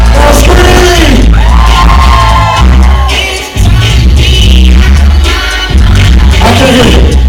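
A comedy show audience screams and yells on cue, very loud, distorted waves of shouting and whooping that rise and fall across the clip.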